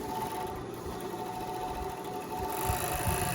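A noisy conventional-motor sewing machine stitches a blouse, its steady mechanical whir running continuously and fairly close, growing slightly louder near the end.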